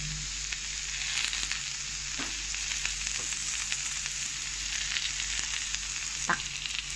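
Vegetables sauté in a hot pan with a steady, even sizzle and a few soft, sparse stirring scrapes and taps, with no voices.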